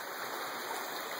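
A mountain creek runs below a waterfall, giving a steady, even rush of flowing water with no voices over the short stretch.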